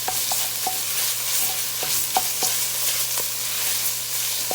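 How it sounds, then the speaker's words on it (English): Sausage sizzles steadily in hot oil in a pan, a dense, even crackle with scattered small pops and light stirring clicks, close and constant with no voices. "As you can see, the oil's getting hot. And over here, I have added the sausage to this mixture."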